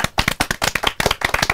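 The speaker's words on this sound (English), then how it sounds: "Round of applause for that." A few people in a small room give a brief round of applause, sharp and close, with quick uneven hand claps that last under two seconds.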